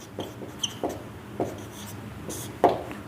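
Chalk or pen writing a math division problem, a series of short faint scratchy strokes at an irregular rhythm in a quiet room.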